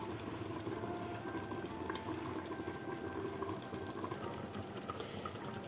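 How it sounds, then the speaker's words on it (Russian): Eggplant salad with vegetable oil simmers gently under a lid on low heat, giving a faint, steady bubbling hiss that runs on without a break. "Немножечко кипит под крышкой на слабом огне полчаса"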